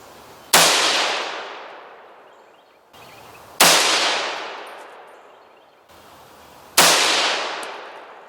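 Three loud, sharp rifle shots at a 100-yard outdoor range, each with a long decaying echo, evenly spaced about three seconds apart with no talk.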